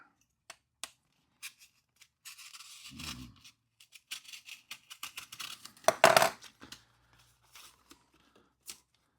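Product packaging from a gift parcel is cut open by hand in a series of quiet, close snips and scrapes with scattered taps, then a louder rustling tear midway, with no talking.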